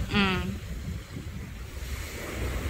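Strong ocean waves roll continuously at a beach, a broad rumbling surf wash mixed with wind, a short voice heard near the start.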